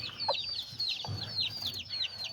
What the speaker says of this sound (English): this is my smallest white rooster I got, a really tiny one